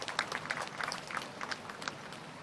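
At a World Firefighters Day ceremony in Kepala Batas, an audience claps in a brisk, uneven burst of many hands, a crackling patter of applause at moderate distance with no voices over it.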